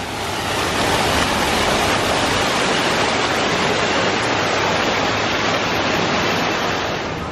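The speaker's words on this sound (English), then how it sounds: "The waterfalls." Loud, steady rushing water pours continuously, a dense roar of a waterfall close by at Disney's Animal Kingdom in Florida, with no voices.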